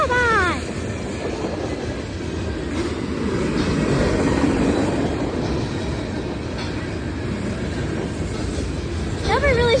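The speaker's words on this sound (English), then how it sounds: "this manifest came in hot and it's pretty loud" A loud manifest freight train rumbles steadily past at close range, a dense continuous roar of wheels and cars with brief squealing tones at the start and end, and people talking over it.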